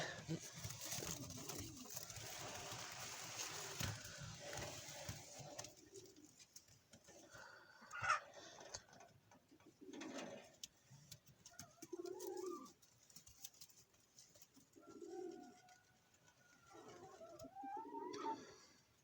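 A dove coos in soft, repeated low calls, spaced out over quiet background rustling, fairly close and gentle.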